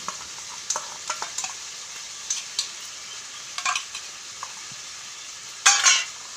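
A spoon scrapes and clinks in a pan as mutter paneer fries in sour yogurt with cumin, ginger and chilli, over a steady low sizzle with scattered sharp stirring taps and a louder scrape near the end.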